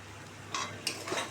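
Eggplant chorchori cooked in fish oil, with coriander leaves added, gets stirred in a pan: a quiet frying hiss and two or three brief scraping strokes of a spoon.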